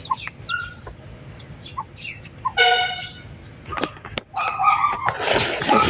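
Chickens and their chicks cluck and peep nearby in short, scattered calls, with a dog barking among them and a brief burst of louder noise near the end.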